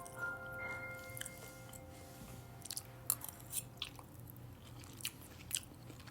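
Someone chews a bite of vegan steak, with soft, moist crunching and squishing repeating close to the mic over a low steady hum, with no talking.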